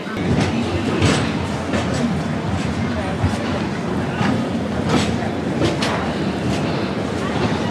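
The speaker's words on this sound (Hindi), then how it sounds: "ये देखिए दोस्तों ट्रेन भी आ गई है हमारी" A train pulls into Hazrat Nizamuddin railway station with a steady, loud rumble and rhythmic wheel clatter, while voices murmur faintly through the noise.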